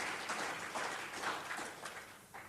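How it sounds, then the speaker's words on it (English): A meeting audience gives a round of applause, soft and distant clapping from a crowd spread evenly through the moment without talk. "so please give yourselves a round of applause"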